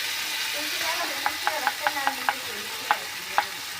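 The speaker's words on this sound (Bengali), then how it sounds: "এখন দিয়ে দিব বন্ধুরা টমেটো পেস্ট।" Tomato paste stirred into a sizzling pan of spices for tomato rice, a steady soft frying hiss under a run of light, evenly spaced scraping strokes of a spoon against the pan.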